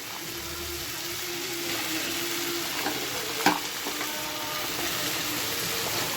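Tomatoes sauté in a pan for a black mochai (field bean) kuzhambu with a continuous, even sizzle and one sharp clink of a utensil midway, close and without talk.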